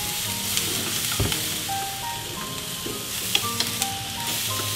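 Small pieces of beef fry with a large heap of onions in a pan, giving a steady close sizzle broken by occasional scrapes and knocks of stirring.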